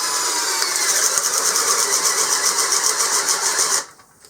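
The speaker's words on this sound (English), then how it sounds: "Let's try the 20-volt drill next." A 20-volt cordless drill bores a hole into wood right beside an earlier hole, giving a loud, steady motor whine with a grinding edge that runs without a break for almost four seconds and then cuts off abruptly.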